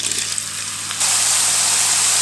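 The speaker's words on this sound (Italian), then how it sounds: "Andiamo a friggere poco alla volta in olio bollente." Zucchini rounds drop into boiling oil a few at a time. A quieter hiss jumps to a loud, steady sizzle about a second in and stays close and constant, with no voices.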